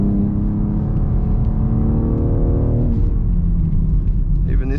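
A 2023 BMW X4 M Competition pulling hard in third gear, its engine note droning steadily and rising in pitch under full throttle, then easing off as the revs drop, loud and close inside the cabin.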